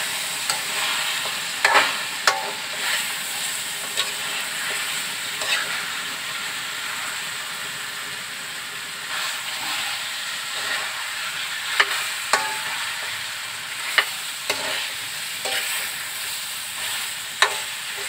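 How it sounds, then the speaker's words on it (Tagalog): Pork rib meat for caldereta fries and is stirred in a pan, giving a steady hissing sizzle with repeated sharp scrapes and clanks from the spoon, close and fairly loud. "Tapos, ihahalo na natin yung karne."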